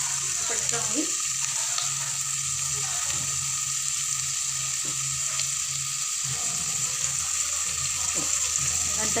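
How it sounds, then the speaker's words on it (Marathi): Onions sautéing in a pan, giving a continuous close sizzling hiss with occasional soft scraping strokes of a spoon and a low hum underneath. "आता आपण कांदा शिजवून घेऊया. चांगलं परतवून घेऊया कांदा."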